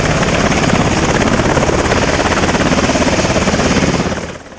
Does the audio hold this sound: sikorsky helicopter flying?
yes